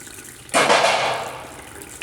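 Water from boiled daal mash lentils poured off in a sudden rushing splash that starts abruptly and tapers over a second or so, loud and close, with a faint clink at the end.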